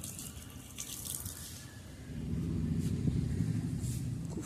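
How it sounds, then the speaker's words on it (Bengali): A water tap running on a rooftop under cloudy weather, a steady rushing splash that grows louder and fuller partway through, close by, with no talking. "দেখো দেখো এসে জল খুলে দিয়েছে ছাদে।"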